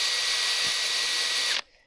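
A handheld power drill spins steadily while pinning out the motor of an Aprilia Tuareg during a major service, a loud constant whir that cuts off abruptly near the end.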